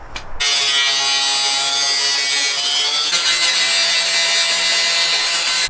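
A power saw cuts through a van window trim ring during a Ford Transit conversion, giving a loud continuous high-pitched buzzing rasp for about five seconds that starts and stops abruptly.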